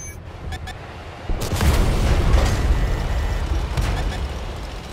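WZ-132 light tank cannon shot landing on an enemy in World of Tanks on console, a sudden heavy boom followed by a long rumbling, crackling tail after a few faint clicks.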